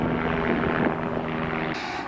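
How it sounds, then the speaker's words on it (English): Helicopters flying over a flooded valley near the USA–Canada border make a steady droning engine and rotor hum with a constant low tone. It stays fairly loud and even throughout, with no talking. "Got a lot of helicopters out there helping today."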